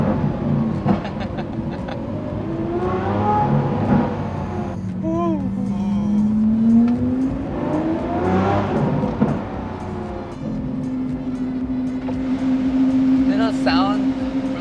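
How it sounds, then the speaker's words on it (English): Lamborghini Aventador SVJ fitted with a Gintani straight-pipe exhaust, engine rising and falling through revs in a rough, loud blare, with a person talking over parts of it. "There's something about the Gintani system on the SVJ that really just complements the car."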